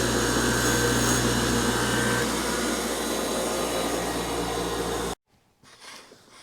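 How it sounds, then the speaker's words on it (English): A bench grinder tapers a steel rivet for a Suzuki TS125 motorcycle clutch damper, giving a loud, steady grinding whine for about five seconds before it abruptly cuts off, leaving faint scraping afterward. "all I do is just clean it up a little bit on my bench grinder"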